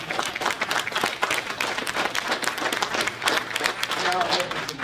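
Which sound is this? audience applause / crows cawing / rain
audience applause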